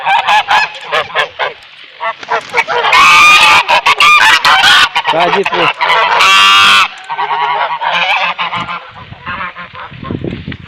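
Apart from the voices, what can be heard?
geese honking by a river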